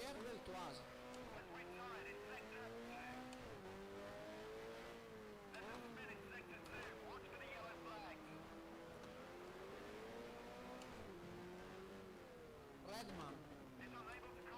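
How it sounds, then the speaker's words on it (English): 1972-era Formula One cars race around Monaco in the F1 Challenge video game, engines whining and revving loudly throughout with rising and falling pitch as cars pass close by, while someone talks over the engine noise. "I can hear some engine noises from pretty close"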